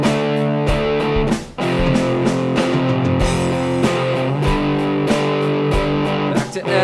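Distorted electric guitar plays the pre-chorus of The Cult's "Fire Woman" on its own, loud and sustained, with dense ringing chords and brief choked pauses.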